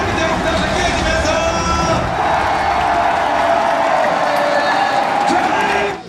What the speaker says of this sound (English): Check out the cheering from that intense game.